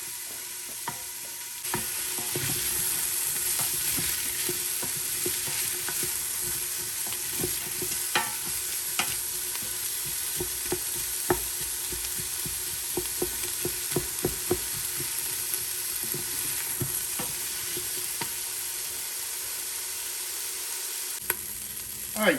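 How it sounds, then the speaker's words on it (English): Chili and onion sauté in an Instant Pot for Mexican stew with a steady, close sizzle and hiss, dotted with frequent stirring clicks and scrapes against the pot and no voices. "we're going to saute that until it's tender and lightly brown"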